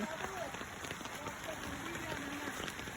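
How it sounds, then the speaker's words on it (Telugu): Rain falls outdoors in a soft, steady patter, faint and continuous throughout, with a few light voices in the background. "చూడు చూడు వర్షం పడుతుంది పద."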